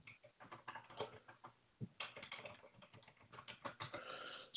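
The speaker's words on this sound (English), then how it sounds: "I'm going to type in the chat." Typing on a computer keyboard, an irregular run of quick close key clicks with brief pauses, fairly quiet and with no voices.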